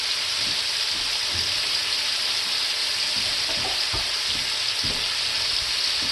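A smash burger patty frying on a bed of onions in a hot pan, a loud, steady hiss and sizzle with occasional soft scrapes and taps underneath.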